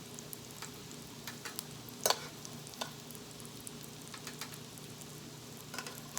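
Broccoli latkes frying in a pan give a quiet, steady sizzle with occasional small pops and crackles, one sharper spatter standing out; no talking.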